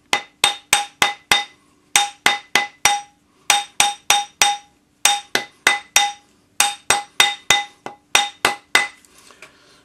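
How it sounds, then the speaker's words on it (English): Hammer striking a metal ring being shaped into a seamless ring, ringing out in quick bursts of three or four sharp metallic blows separated by brief pauses, close and loud. "flip it over and hammer the other way"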